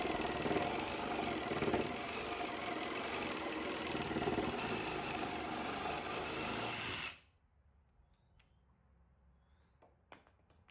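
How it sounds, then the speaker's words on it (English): A sawzall reciprocating saw trims the protruding inner stems of a wooden Pelican Punt boat. It buzzes loudly and steadily for about seven seconds, then cuts off abruptly, leaving a few faint clicks and knocks. "trim off the lower protruding part of the inner stems using either a handsaw or the fine woodworker's favorite tool, the sawzall"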